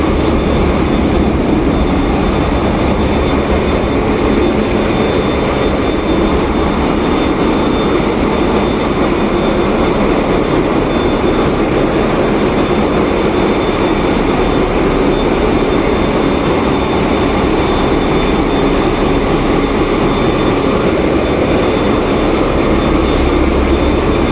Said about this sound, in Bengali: এই হচ্ছে ইঞ্জিন রুম